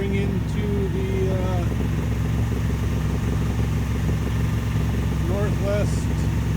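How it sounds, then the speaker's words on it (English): A sailboat motors under engine power off the northwest tip of Texada Island, a steady low engine drone running continuously throughout, with faint voices and gull-like calls over the top. "And we are motoring into the"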